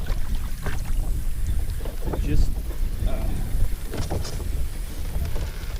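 A boat's engine drones low on the water while strong wind buffets the microphone, during bass fishing, with a person speaking briefly over the noise.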